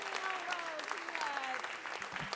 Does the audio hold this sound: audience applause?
yes